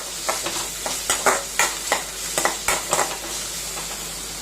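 Ingredients for brinjal gravy being dry-roasted in a pan: rhythmic scraping and stirring strokes, close and fairly loud, over a faint steady hiss.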